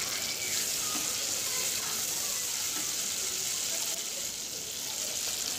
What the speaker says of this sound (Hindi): अब हम इसमें और थोड़ा सा इसको फ्राई करने के बाद हम इसमें करीबन एक कप पानी जो है वो हम इसमें ऐड कर देंगे।